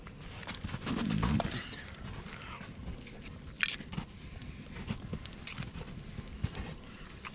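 Someone bites into and chews steak outdoors at a bushcraft camp, with soft wet crunches and chewing sounds close to the microphone over faint outdoor background noise.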